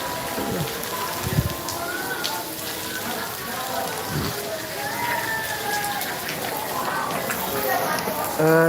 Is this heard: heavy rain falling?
yes